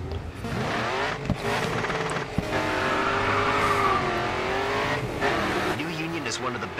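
Race cars in the video game Grid 2, with a loud, continuous engine drone whose pitch rises and falls through gear changes and the odd tire squeal, under commentary talk.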